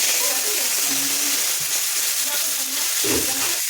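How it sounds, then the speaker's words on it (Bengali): Rohu fish pieces fry in oil in a pan, giving a dense, loud, close sizzle with a brief clatter near the end and no clear talk. "এবার মাছগুলো একসাথে ভেজে নেব।"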